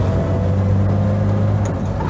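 A Jaguar E-Type with a 4.2 litre XK straight-six, still warming up on a country road, heard from inside as a loud, steady low engine drone with a deep exhaust note, cruising evenly without hard revving.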